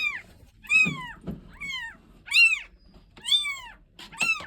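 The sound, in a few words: kittens meowing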